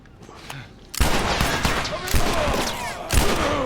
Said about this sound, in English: he's running towards me, so I'm going to headshot him and then punch him